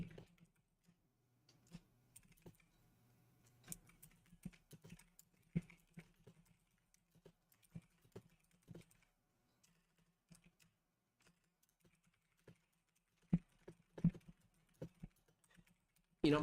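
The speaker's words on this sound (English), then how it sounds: "Keystrokes." Keystrokes tap on a computer keyboard, faint and irregular, in scattered bursts of clicks over a low steady hum, with a few louder presses near the end.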